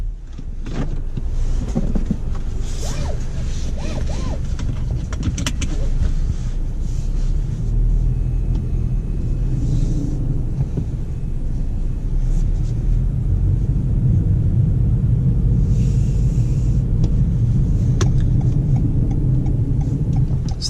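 A 2019 Toyota Corolla Hatchback XSE on the road, giving a steady low rumble of engine and tyre noise that fills the cabin continuously, with faint intermittent rattles and clicks over it and no talk.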